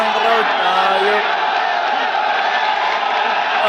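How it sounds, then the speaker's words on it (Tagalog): A crowd at a Flip Top rap battle cheering and whooping loudly, a dense sustained roar of voices with shouts rising above it throughout. "Ang sobrang saya ng crowd."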